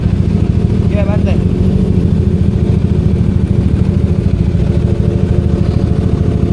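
Motorcycle engines idle in a steady low rumble close by at a carwash, a continuous mechanical drone with a brief faint chirp near the start.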